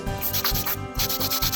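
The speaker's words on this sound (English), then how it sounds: "to file my side walls just to make sure that my nail is in the correct shape" A nail file rasps back and forth along the side walls of an acrylic nail in quick, close, repeated strokes, gritty and loud with no talking.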